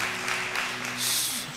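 An audience at a live Ramazan iftar show with poetry recitation applauds in a steady burst of clapping that swells near the end and tapers off, with faint talk underneath.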